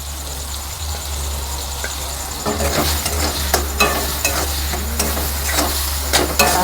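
Aloo paratha filling frying in a pan as the remaining spices go in and get stirred: a steady close sizzle with scraping, clinking stirring strokes that grow busier partway through.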